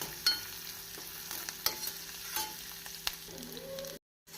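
Onion and yellow pumpkin sizzle steadily in a hot pan while a utensil scrapes and stirs with occasional clicks, close up, before cutting to silence.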